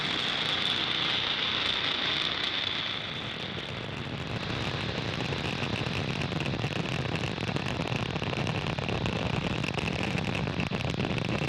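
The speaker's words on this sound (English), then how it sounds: "F9 has successfully lifted off from Slick 40 at Cape Canaveral, Florida" Falcon 9 rocket engines roar steadily after a night liftoff of a Starlink mission from Space Launch Complex 40 at Cape Canaveral, Florida, a dense, continuous broadband rumble heard from a distance with no voices.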